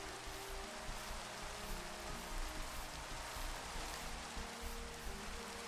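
Steady rain falls in a video game, a dense, even hiss with no distinct drops, holding at a constant level throughout with no voices.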